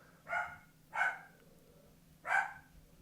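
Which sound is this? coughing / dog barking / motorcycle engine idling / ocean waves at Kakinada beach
dog barking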